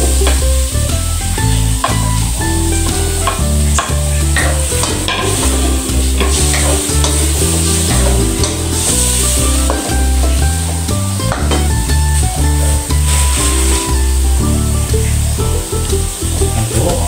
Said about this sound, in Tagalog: Ilalagay na rin po natin yung sugpo.